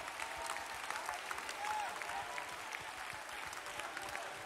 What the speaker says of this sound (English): Somebody clap in expectation.